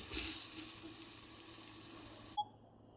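Punarnava leaf thoran cooking under a lid in a pan gives a steady soft sizzle with faint crackles. It stops abruptly near the end with a small clink.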